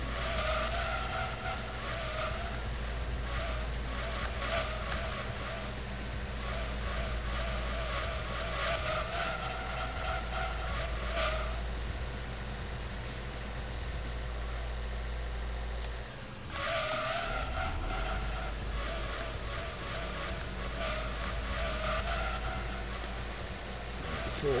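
Steady, loud engine drone of a Toyota Prius held at full throttle in Gran Turismo 2, a sustained racing-game roar with a brief dip midway, then resuming under faint background music.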